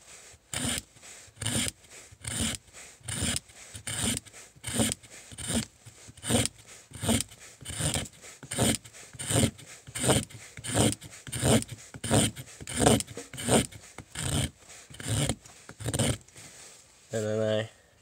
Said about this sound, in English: I do the scrape all the way down, as far as I can get it sometimes.